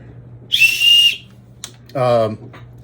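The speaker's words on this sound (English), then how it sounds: "I made a whistle on the end of it." Two short, loud blasts from a whistle built into a walking stick, close by: a shrill high-pitched tone, then a lower, breathier note after a pause.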